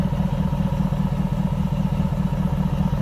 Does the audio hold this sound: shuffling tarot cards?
no